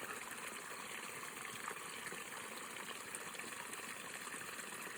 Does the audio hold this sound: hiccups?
no